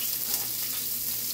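Vegetables and onion hiss in hot olive oil in a pan, a short dense burst of close, steady sizzling with no voices.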